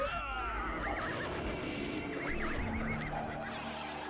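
A horse whinnies twice in Ultima Online, the high wavering neighs rising over a busy background of clicks and small game effects.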